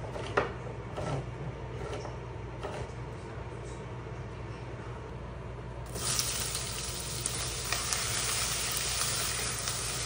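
Chicken curry sizzles steadily in a pan, a constant frying hiss with a few faint clinks, growing brighter and louder partway through as more heat or liquid hits the pan; no talking.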